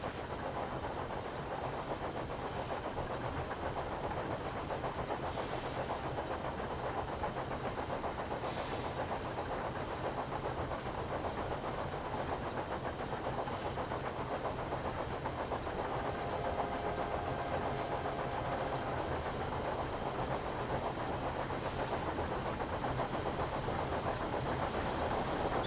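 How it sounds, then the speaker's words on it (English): A train engine runs in Railway Empire 2, a steady, even mechanical rumble that continues for the whole stretch with no clear changes in level. "That's the same train we have, except this one is heading to Amsterdam"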